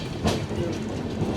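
The Ratnachal Express pulls into platform 2 at Tuni station, a brief low rumble of rolling wheels with soft rhythmic clacking, steady and close.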